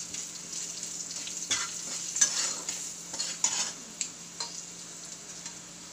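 Sautéing in a pan while making jeera rice, a quiet steady hiss with light scrapes and taps from stirring, close but soft, no voices.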